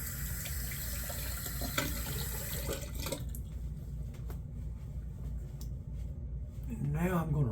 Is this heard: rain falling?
no